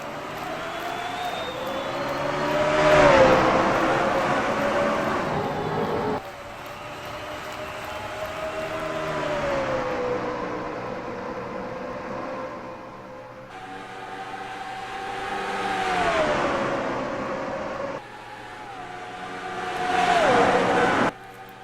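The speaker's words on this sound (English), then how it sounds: "Stephen Colon and Zachary Fitzwater will lead the field to the green to get race number 2 underway here at Charlotte." NASCAR Truck Series race trucks thunder past at the start of a race at Charlotte, engine roar swelling and fading in repeated loud passes with pitch sweeps as the field goes by.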